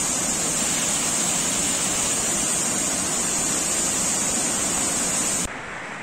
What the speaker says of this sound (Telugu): భారీ వర్షాలతో శారద తాండవ నదులు ఉప్పొంగి ప్రవహిస్తున్నాయి